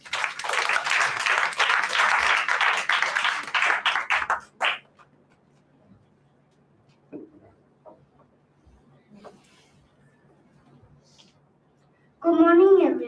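Audience applause at a school solo graduation performance, a dense burst of clapping for about four and a half seconds that then stops abruptly, followed by quiet room noise and a voice starting at the end.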